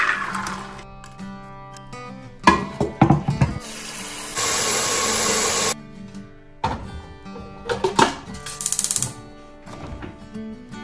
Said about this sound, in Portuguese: esse é o meu lavar de feijão